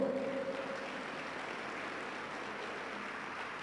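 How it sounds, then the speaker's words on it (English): Church congregation clapping during a worship service, a steady dense wash of applause that holds evenly from start to finish at moderate level with no voices on top. "Clap for the Lord."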